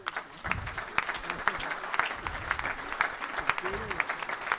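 An assembly at a plenary session applauds the president of the Senate, with a steady spread of clapping and a few sharp claps standing out, while voices murmur and talk underneath.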